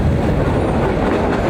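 A slow passenger train runs from Kurigram to Chilmari on a line under repair, its carriages giving a steady, close rolling rumble with faint clatter from the wheels on the rails throughout.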